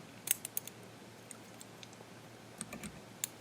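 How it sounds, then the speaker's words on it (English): Scissors trimming excess thread while tying a no-pour jig for salmon and steelhead, heard as a few quick, faint snips and clicks over a quiet room. "And we'll take our scissors here."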